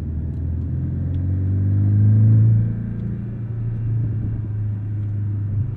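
A Porsche engine rumbles low and steady, swelling briefly as the exhaust burbles off throttle, then settling back to a smooth drone.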